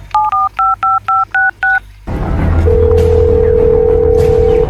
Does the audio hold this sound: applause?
no